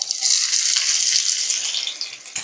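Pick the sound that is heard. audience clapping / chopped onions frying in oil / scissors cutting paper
chopped onions frying in oil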